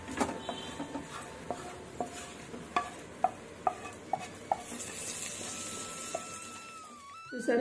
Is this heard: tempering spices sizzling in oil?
yes